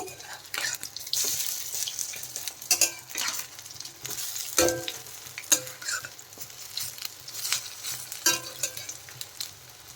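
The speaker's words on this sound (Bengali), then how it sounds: "বড়াগুলো দেখেন এক সাইডে ভাজা হয়ে গেছে এখন আমি একটু পাল্টে দেব" Lentil pakoras frying in hot oil are turned over, with a steady crackling sizzle broken by a few sharp utensil scrapes and clicks up close.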